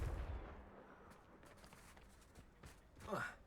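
A Confringo fire spell blast in Hogwarts Legacy lands as a muffled low boom at the start and fades into quiet scuffing, with a brief voice near the end.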